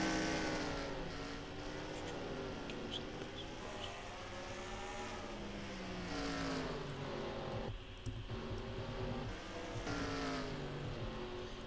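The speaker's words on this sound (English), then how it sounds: "a couple cars getting onto the track here" Race cars roll onto the track in a 1999-season racing video game, several engines droning and whining steadily together with rising and falling pitch, fairly close and continuous throughout.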